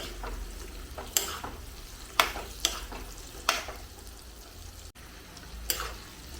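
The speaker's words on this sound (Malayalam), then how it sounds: "ഇനി നമുക്ക് എല്ലാം കൂടെ നല്ലപോലെ ഒന്ന് വഴറ്റിയെടുക്കാം" Bilimbi pickle with turmeric sautés quietly in a pan, a soft sizzle broken by a handful of spaced, sharp utensil clinks against the metal.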